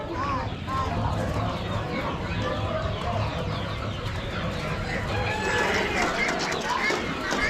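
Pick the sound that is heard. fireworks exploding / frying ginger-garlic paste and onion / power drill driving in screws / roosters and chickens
roosters and chickens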